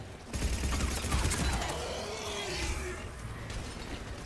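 Sustained gunfire from a video game firefight in Mass Effect, a dense steady barrage of shots running loud and continuous throughout.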